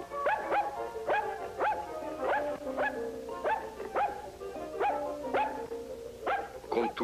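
A dog barks in a steady series of about a dozen sharp, evenly spaced barks, fairly close and clear against a quiet background, with no talking.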